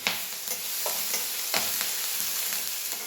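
Green chili paste sizzles and fries in hot oil, a constant bright crackle broken by soft scrapes of stirring.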